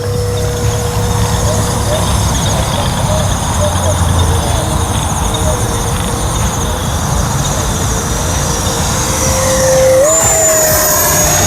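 An Arrows Hobby Viper 50 mm electric ducted-fan RC jet flying, a steady whining whoosh held at a fairly loud level that sharpens and rises in pitch near the end as it passes.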